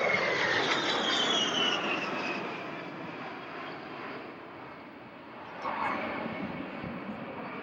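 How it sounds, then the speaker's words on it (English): Several A-10 attack jets in close fingertip formation make a high-speed pass at a 1991 military air show at Barnes Air National Guard Base, a broad loud jet roar with a falling whine that fades and then swells again. "call your attention to the A-10s in close fingertip formation as they make another high-speed pass"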